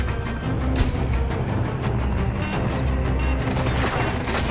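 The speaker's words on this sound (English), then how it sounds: "I'm gonna hit him with the missile, bro." A missile strikes a helicopter during a Battlefield match, heard as a sustained, dense roar of booming explosion and crashing debris that stays loud for several seconds amid battle noise.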